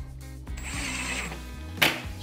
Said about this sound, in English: I'm going very easy on the drill.